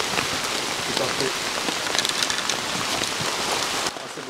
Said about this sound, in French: les potes il pleut tellement fort